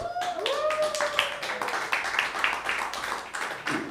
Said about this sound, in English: round of applause for yourself for making it out tonight